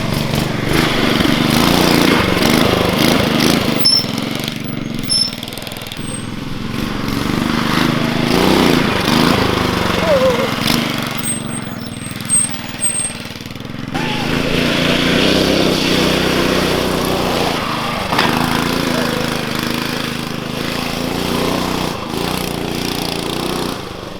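A 301cc CVT mini bike engine runs steadily close by, buzzing and rising and falling with throttle changes throughout, with outdoor background noise.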